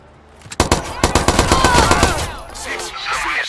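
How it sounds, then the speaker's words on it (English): A loud, close burst of rapid automatic gunfire from the video game Watch Dogs 2, roughly a dozen quick cracks in steady rhythm that then fade into a ringing tail. "Oh, I think somebody's shooting a gun"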